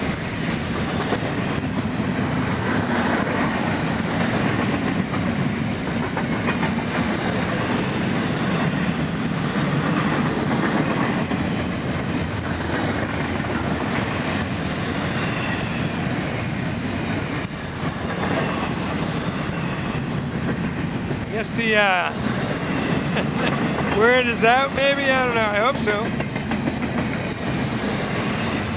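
A Florida East Coast Railway freight train rolls steadily past up close, its wagons clattering and rumbling without pause, with a brief wheel squeal near the end; someone speaks a few words over the noise.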